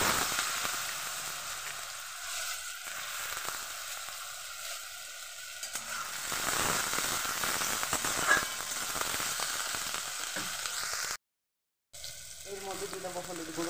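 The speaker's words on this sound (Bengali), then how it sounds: "এখন শুধু আলুটা ভাজবো" Potatoes frying in a pan on low gas hiss in a steady sizzle that swells and fades, with a brief silent gap near the end and some faint background voices.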